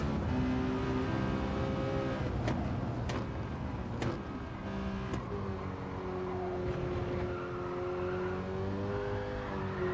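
A car engine in a racing video game holds a sustained, loud rev with rising and falling pitch, punctuated by a few brief sharp clicks, continuous throughout with no talk.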